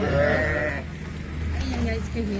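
Sheep that have wandered into a Penny supermarket in Bavaria bleat loudly and close, several overlapping calls, while people talk at the same time.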